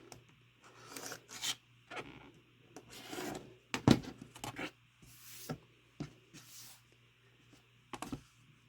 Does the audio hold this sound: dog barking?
no